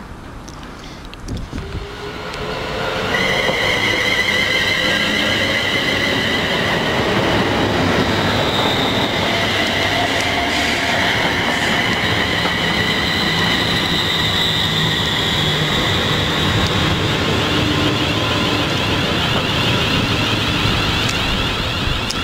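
Trains roll through a railway station on a line serving Tring and London Euston, building from quiet into a loud, sustained rumble of wheels and carriages with high squealing tones, close by and steady, with no talk.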